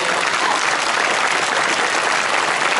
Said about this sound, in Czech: Takže velký potlesk burčáků